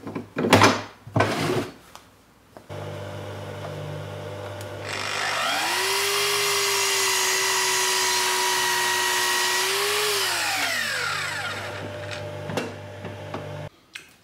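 A miter saw with a laser guide cutting wood for a laundry basket stand: the motor spins up, whines steadily through one long cut for several seconds, then winds down, with a few clicks and knocks around it.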